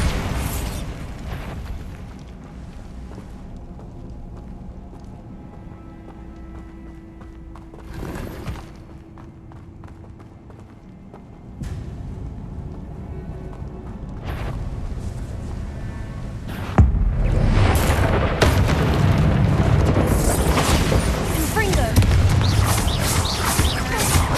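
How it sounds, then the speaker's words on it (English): Bombarda blasting spell cast in the video game Hogwarts Legacy: a burst of heavy booming rumble that holds loud and dense over game ambience and footstep-like clatter, after earlier thuds. "Bombarda!"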